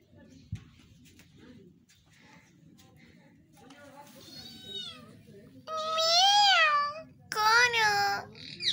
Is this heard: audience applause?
no